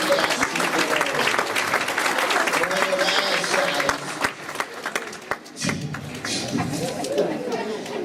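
An audience at a comedy show with two chefs applauds, with scattered clapping and crowd chatter mixed with talk on stage, a few thumps, and a brief lull before the noise picks up again.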